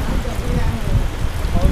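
Rain falling in Ho Chi Minh City, a dense close patter that stays loud and steady for the whole short stretch.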